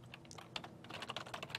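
Rapid keystrokes on a computer keyboard, a close, steady run of light clicks and taps with no talking.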